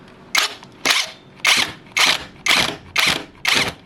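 A Hasston cordless impact drill drives a screw into wood in seven sharp, evenly spaced bursts of rapid hammering, loud and close, with brief pauses between each burst.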